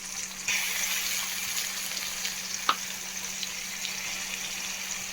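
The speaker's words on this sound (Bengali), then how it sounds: "এইভাবে একটু আদা রসুন বাটাটা দিলাম" Ginger-garlic paste hitting tomatoes frying in a pan for a Bhola fish curry, a steady close sizzle and hiss with one sharp spatula clink partway through, and no voices.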